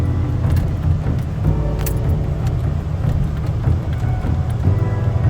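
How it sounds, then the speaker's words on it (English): A truck drives over snow at a homestead, its engine giving a steady, close, low rumble, with rattles and jangling over it throughout and no talk. "I would rather drive on snow than have to deal with all the mud. I'm pretty confident the truck will make it through"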